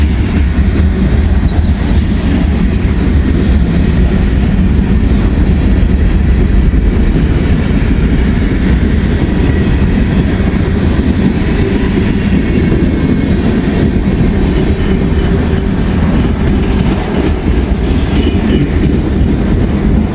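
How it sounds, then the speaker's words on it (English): A loud, close intermodal freight train hauling auto racks rolls past without pause, its wheels rumbling and clacking rhythmically over the rails. "wait till the locomotives pass"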